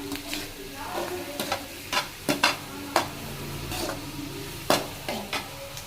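Chicken gravy is stirred in a pan with a spoon, producing scattered scraping knocks and clinks over a quiet steady sizzle, close and unaccompanied by speech.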